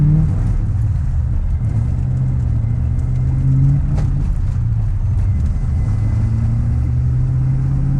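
A car engine warming up while driving in cold enrichment, a steady low rumble with a faint hum that rises and falls slightly, continuous and close, no voices.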